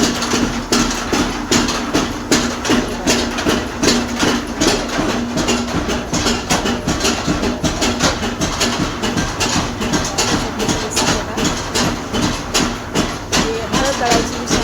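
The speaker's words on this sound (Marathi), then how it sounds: "इथं मिरची वाटली जाते. आणि हे बघा, इथं मिरचीला 2 मशीन आहेत." Two red chili grinding mill machines run loudly side by side, a heavy rhythmic mechanical thumping and rattling with a steady low hum, while a voice speaks over the din.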